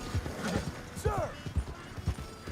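Horse hooves clip-clop at a trot in the video game Red Dead Redemption 2, a rhythmic run of soft thuds close by, with a brief whinny and a voice talking over it.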